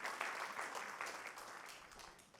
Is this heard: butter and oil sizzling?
no